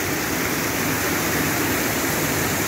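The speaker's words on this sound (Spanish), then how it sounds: "Esta gran vertiente de agua aquí en Delicias de Concepción, en el departamento de Morazán." A large spring of water pours down at Delicias de Concepción in Morazán, El Salvador, a loud, steady, dense rush of falling water with no pauses and no voices.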